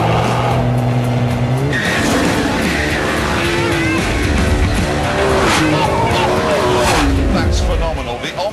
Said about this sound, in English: Left foot on the brake, don't turn the launch control on. Build up the revs.